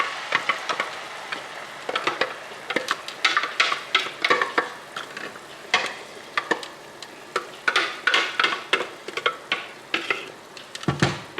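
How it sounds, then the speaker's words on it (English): Crushed tomatoes tipped into a pot of broken-down tomato paste and stirred for a pizza sauce, giving a run of close, irregular scraping and sloshing strokes with small clinks, loud and steady throughout without talk. "So in go the crushed tomatoes."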